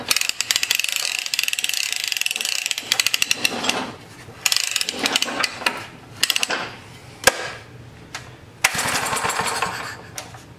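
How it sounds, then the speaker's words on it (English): A rare 1960 hand-crank lawn mower, left sitting for 40 years, is cranked over on choke, giving loud clattering ratchet-like bursts of rapid mechanical clicks separated by short pauses. "crank this thing over to get it to start."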